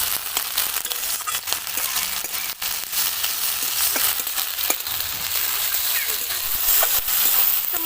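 Masala of cumin, coriander and ginger paste frying in a pan, a close crackling sizzle with scattered sharp pops and scraping stirs throughout, fairly loud and steady.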